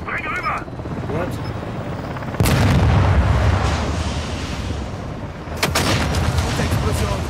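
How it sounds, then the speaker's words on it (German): Booming explosion bursts in Call of Duty: Modern Warfare II erupt over a loud rumbling battle din, with a second blast near the end. "Und Explosion."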